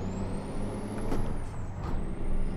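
A heavy truck engine in American Truck Simulator roars and revs with a rising then falling whine over it, loud and continuous, with a hiss of air brakes.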